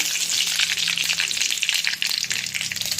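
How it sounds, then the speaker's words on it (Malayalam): Mustard seeds and curry leaves sizzling in hot oil, a dense crackling hiss with scattered pops and spits, loud and close, running steadily without any talk. "എണ്ണ ഞാൻ ഒഴിച്ച് കൊടുത്തിട്ടുണ്ടായിരുന്നു. അത് ചൂടായിട്ടുണ്ട്. ഇച്ചിരി കടുകിട്ട് കൊടുക്കാം. അതോടൊപ്പം കുറച്ച് കറിവേപ്പില."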